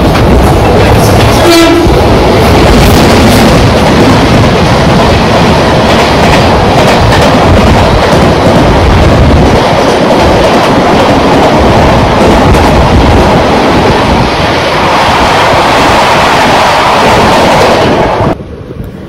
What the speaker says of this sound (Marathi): आणि आता ट्रेन सुटली अंधेरी स्टेशनवरून